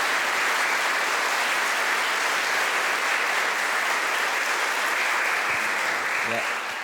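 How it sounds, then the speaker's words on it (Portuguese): A church congregation at the dedication of a parish church gives a warm round of applause, steady, dense and loud throughout, fading slightly at the end. "Então, uma calorosa salva de palmas a Dom Wilson, o nosso Conselho de Pastoral."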